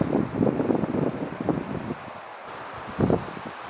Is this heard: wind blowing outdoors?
yes